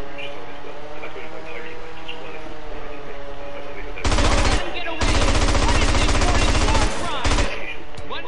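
Enemy gunfire in GTA San Andreas comes in loud, rapid automatic bursts after a stretch of steady game background, with a brief gap between volleys.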